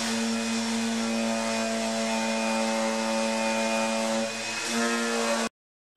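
Coarse sandpaper grinding acrylic down flat, a loud, sustained abrasive roar with a steady humming tone underneath, shifting briefly near the end before cutting off abruptly into silence.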